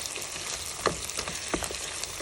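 Sliced bombay onions sizzle and fry in hot oil in a home kitchen in Japan, a steady crackling hiss with a few sharper pops and stirring scrapes, heard alone with no talking.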